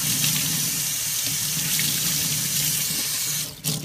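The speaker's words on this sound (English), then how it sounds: "all you do is rinse it with hot water and everything releases from the microfiber down the drain." Hot water runs hard from a tap into a sink while a microfiber cloth is rinsed under the stream, a loud steady splashing that cuts off abruptly near the end.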